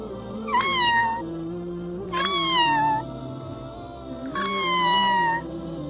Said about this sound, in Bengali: মিকি কাছে গেল আর ম্যাও ম্যাও করে ডাকলো